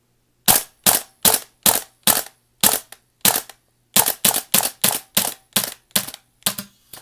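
An airsoft rifle fires a string of about fifteen sharp, close, crisp shots, spaced fairly evenly with a short gap in the middle, in an otherwise quiet room.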